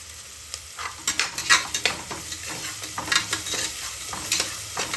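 Chicken kuruma base sautés in a pan with a touch of salt, a close crackling sizzle broken by uneven bursts of spatula scraping and stirring, with no voices.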